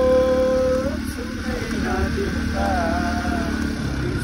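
A motorcycle rides along a rural village route near a stream in Nepal, its engine droning steadily and close throughout, with a brief rising rev near the start and no talk over it.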